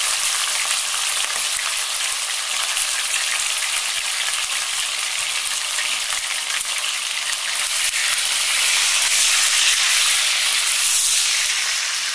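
Chicken frying in very hot oil for a Delhi-style wedding korma, giving a loud, steady, dense sizzle that holds for the whole stretch with no voices.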